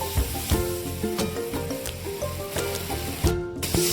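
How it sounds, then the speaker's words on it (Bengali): Ground spice paste and fried eggplant sizzle in a hot pan as they are stirred, a steady close crackle with scraping strokes and no talk. "মশলাটা দিয়ে ভালোভাবে কষিয়ে নিচ্ছি।"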